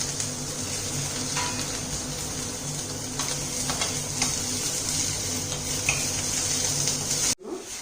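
Chopped tomato sautés in a hot pan with oil, giving a continuous close sizzle broken by scraping and light clinks of the stirring spoon, which cuts off sharply near the end.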